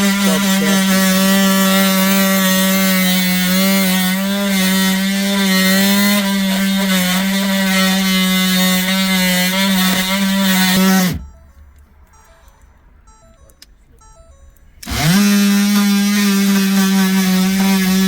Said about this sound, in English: Cutting this sub chassis.